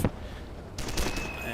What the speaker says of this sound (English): so now there's more harassing mortar fire just falling across my lines